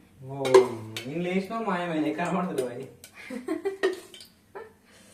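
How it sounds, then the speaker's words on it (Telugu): A bowl is set down with a clink and cooking oil is poured in while making green chicken at home, brief kitchen knocks mixed under a voice talking close by. "బౌల్ పెట్టి ఆయిల్ అయితే వేసేస్తున్నాను"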